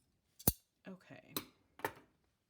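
Ordinary scissors, not fabric shears, cutting through journal-making material: four short, crisp snips spaced roughly half a second apart, close and clear against a quiet room.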